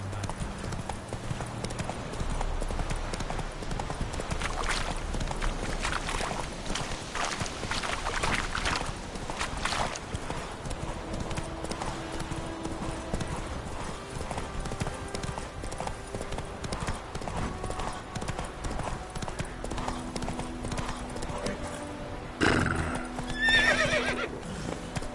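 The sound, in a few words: horse Roach trotting in a video game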